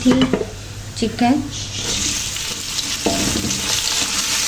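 Chicken browns lightly in a pan, giving a continuous sizzle broken by scraping stirs with a utensil. Occasional clinks of the pan come through, and no one talks.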